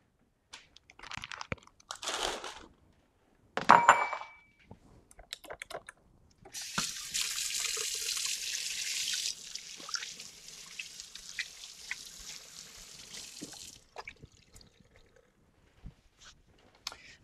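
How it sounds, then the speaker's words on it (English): A kitchen tap runs during handwashing, a steady hiss of water lasting several seconds, preceded by brief clatters and splashes and followed by fainter dripping and handling noises, all at low level. "Bear with me while I wash my hands."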